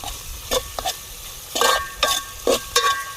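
Crushed chili and garlic are stirred in a pan for a ridge gourd and patra dish, with about half a dozen quick scraping strokes over a soft, close sizzle, no voices.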